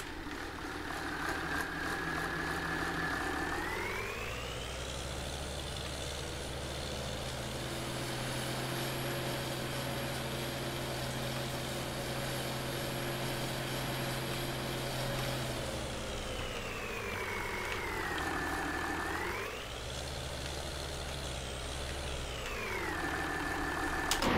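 A tractor engine in Farming Simulator 19 runs alone, idling, then revving up to a sustained high drone, dropping back, briefly rising again and settling into idle.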